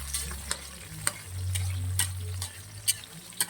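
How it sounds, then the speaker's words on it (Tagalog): Tomatoes sautéing in a pan, a close, even sizzle broken by regular sharp ticks of a utensil against the pan and a low hum in the background. "Lutuin natin yung kamatis."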